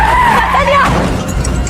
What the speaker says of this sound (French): Avec un crissement de frein strident, la voiture s'arrête de justesse sur le bas-côté.